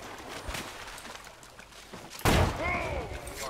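Gunfire in the melee survival game The Culling, one loud sharp rifle blast midway after quieter shuffling sounds, with a ringing tail and a voice.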